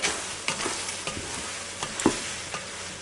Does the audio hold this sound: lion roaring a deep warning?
no